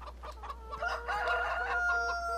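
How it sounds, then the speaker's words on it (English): Chickens in the Farming Simulator 2013 video game cluck and squawk in a busy, overlapping run of calls. The birds sound close and moderately loud over a low steady hum. "Oh, quiet, chicken."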